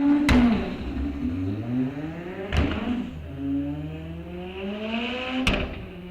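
A turbocharged four-cylinder drag car on a license run at a bracket-series raceway, its engine howling through rising gear pulls with sharp shift breaks between them, loud and passing at a distance.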